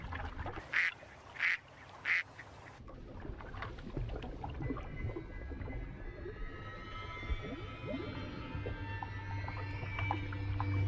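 Three distinct duck quacks ring out close by in the first seconds as an anaconda lurks beneath, then give way to muffled underwater churning and low watery rumble.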